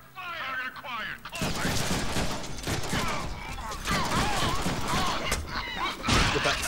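Gunfire rattles through a Deadpool video game, with repeated bursts and shots amid loud action, while characters talk over it.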